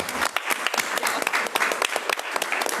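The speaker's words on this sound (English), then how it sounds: "Round of applause for Ms." An audience at a school board meeting claps for Ms. McGuire, a brisk patter of many hands with crisp individual claps throughout, fairly close and sustained.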